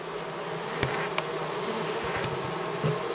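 A colony of honey bees being rescued with a bee vacuum, heard as a dense, steady buzzing drone close by, with a few sharper individual buzzes and knocks rising briefly over it and no talking.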